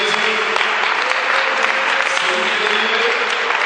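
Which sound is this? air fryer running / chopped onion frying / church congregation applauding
church congregation applauding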